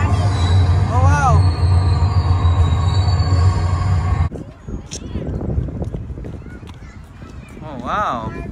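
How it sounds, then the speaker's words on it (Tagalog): A train rolls past on a New York City visit, with squealing wheels and rumbling rail noise that cut off sharply partway through, followed by people chatting and brief whines. "Tapos may train."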